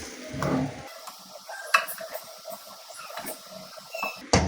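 Chicken fried rice is stirred and tossed in a pan, with a string of quiet scraping and clattering strokes, some spoon knocks on the pan, and a low sizzle.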